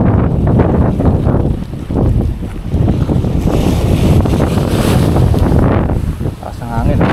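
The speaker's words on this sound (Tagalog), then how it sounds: "Taas ng hangin" Loud, steady wind roaring and buffeting across open water, with a boat's rumble underneath and people talking over it.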